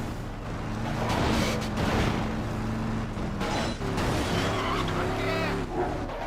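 1960s muscle car in Midnight Club 3 racing through Tokyo streets, engine roaring steadily with repeated tire squeals and skids, loud and close throughout.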